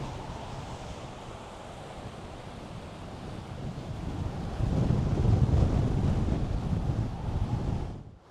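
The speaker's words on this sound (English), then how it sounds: "Blowing a gale." Gale-force wind roars across the beach at Cockle Creek, Tasmania, buffeting the microphone in a steady rush that builds into louder gusts midway before cutting off abruptly.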